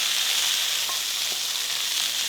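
Rabbit pieces searing in hot oil in a pan, a dense, even sizzle held steady and close throughout with a couple of faint clicks, no voices.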